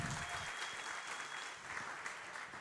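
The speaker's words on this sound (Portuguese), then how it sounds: "Então vamos receber com uma salva de palmas a pastora Josileide." A church congregation claps together in a continuous, fairly even burst of applause, somewhat distant and filling the whole short stretch.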